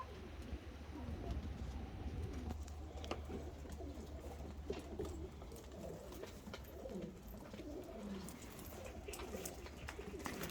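Pigeons in a box cooing together, a dense overlapping chorus of soft throaty coos and rustling wings, steady and close throughout, with faint background rumble and no talk.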